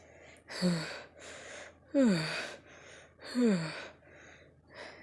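Three sharp, breathy gasps spaced a second or so apart, each falling in pitch, with softer breaths between them.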